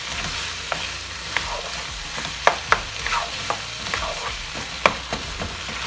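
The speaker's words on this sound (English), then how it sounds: "I keep it on high. I mix the meat with the onions." Taco meat and a whole big white onion frying on high heat, a constant hissing sizzle with scattered sharp clicks and scrapes as the mixture is stirred, close by and without talk.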